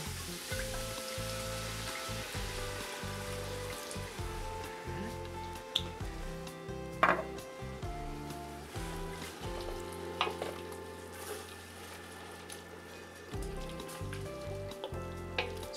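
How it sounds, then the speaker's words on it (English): Pan of pork loin sizzling as white wine deglazes it, a loud continuous hiss with intermittent clinks and scrapes of stirring. "we're gonna deglaze it with a little white wine"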